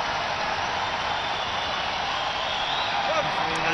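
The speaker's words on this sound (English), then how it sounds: "listen to the rumble of applause" A crowd at the London 2012 Olympics men's individual foil fencing bronze bout applauds in a dense, steady rumble that holds level and unbroken from start to finish.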